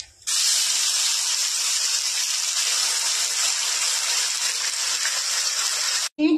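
Spice paste dropped into hot mustard oil in a wok, tempered with nigella and fennel seeds, bursting into a loud, steady hiss that fills the whole moment before cutting off abruptly.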